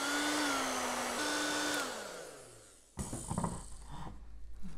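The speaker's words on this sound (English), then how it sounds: "Now I can start using my hair dryer" Steady loud whoosh of a hair dryer drying air dry clay, with a high whine that drops as it slows, followed by a lower rumbling motor with clattering.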